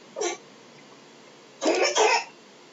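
A child with a cold coughs: one short cough, then after a pause two harsher coughs close together, near and fairly loud in a quiet room.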